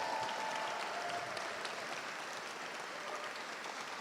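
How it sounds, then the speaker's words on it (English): A crowd at a legislative reception in a great hall gives a dense, steady round of applause, many hands clapping together at a moderate distance, with no talking. "Give her a round of applause."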